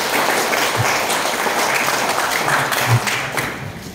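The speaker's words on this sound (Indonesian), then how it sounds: "Kasih tepuk tangan untuk mereka." Steady applause from an audience at a graduation ceremony for new bachelor's degree holders at Universitas Nahdlatul Ulama Blitar, dense and continuous for about four seconds with a few louder claps near the end.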